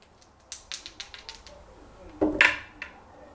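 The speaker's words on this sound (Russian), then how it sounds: "2 кубика у нас, давай, Уилл" Dice clatter on a tabletop during a T.I.M.E. Stories board game session, a sparse series of light clicks followed by a louder burst of tumbling rattles, with no talk over it.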